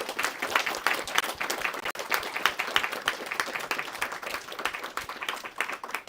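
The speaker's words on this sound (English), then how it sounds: "give everybody a round of applause" An audience at a panel discussion gives the panelists a round of applause, a dense, continuous patter of many hands clapping that carries on evenly throughout without speech.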